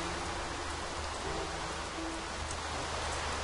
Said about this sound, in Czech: Furt by pršelo, tady jsou prostě hrozný bouřky